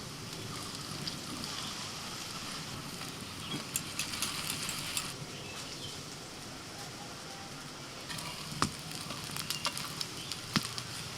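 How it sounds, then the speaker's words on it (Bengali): Pieces sizzle gently in a pan with fried spice, a steady faint crackle with scattered sharper pops. "দুদিকটা হালকা করে এইভাবে একটুখানি ভেজে নিয়ে এবার তুলে নিচ্ছি।"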